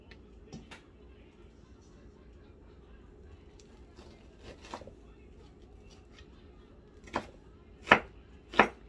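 Knife chopping vegetables such as onion on a cutting board for potato salad: sparse, quiet cuts early, then three louder, sharp chops near the end, in a quiet kitchen.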